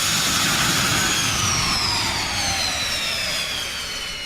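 Restored recording of a jet engine: a loud, continuous roar with a high whine that slowly falls in pitch, sustained throughout and gradually easing in volume, with no voices.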